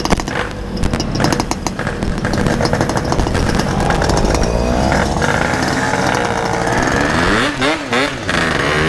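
Yamaha RX King two-stroke motorcycle engine running loud and close, with a steady rasping drone broken by repeated throttle blips and revving swells toward the end.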